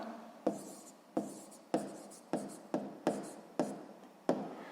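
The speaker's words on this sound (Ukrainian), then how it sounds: "Ну що ж, записуємо відповідь." A pen writes an answer on paper while a sixth-grade maths exercise about a bank's annual interest rate is solved: soft scratchy strokes come in about eight separate quick bursts, close and quiet, each starting sharply and then trailing off.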